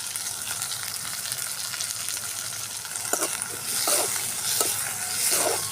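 Onion filling for samosas fries in oil with a soft, steady sizzle, joined by a few scraping stirs that make the frying briefly louder.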